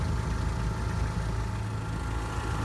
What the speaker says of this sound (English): starting back up with my onboard air system.